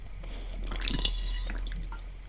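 Liquid pours with drippy, squishy splashes in a Minecraft-style video game, a short burst of trickling and glugging sounds that swells in the middle and then tapers off, heard alone without talk.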